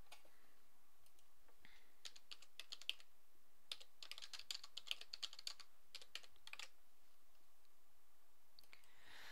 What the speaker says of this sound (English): type the URL or web address into the address bar and click on the Enter